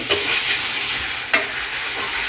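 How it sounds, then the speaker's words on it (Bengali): Hot water poured into a sizzling spicy mutton curry, giving a steady hiss and frying crackle with two sharp bursts as it hits the pan, close up and with no talking. "মাখানো হয়ে গেছে একটু গরম জল দিয়ে"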